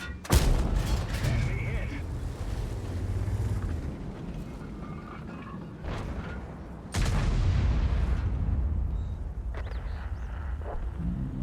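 Tank cannons fire in World of Tanks during a battle featuring the FV217 Badger and an IS tank: two loud, booming shots several seconds apart, each with a rumbling tail, while a commentator talks over the battle noise.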